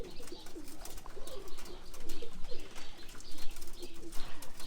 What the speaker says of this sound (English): some of the birds are doing the back and forth from the kit box to the tray